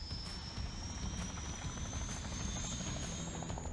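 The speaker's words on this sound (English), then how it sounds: "The sound of the chopper is great." A helicopter engine in the video game Off The Road Unleashed thrums steadily with rapid rotor chop and a high whine running through it, constant and fairly close with no talking.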